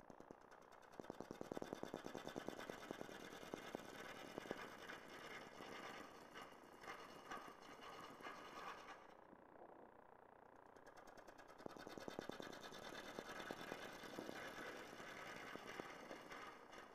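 A wood lathe turning a weedpot, running steadily with a dense rattling, vibrating whir throughout, close and fairly loud, easing briefly near the middle before resuming.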